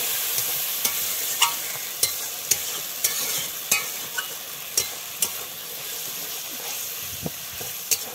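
Spice masala with coriander powder and a splash of water sizzling in a pan for a pointed gourd (potol) curry, a steady hiss broken by regular sharp spatula taps roughly every half second, close up with no talking.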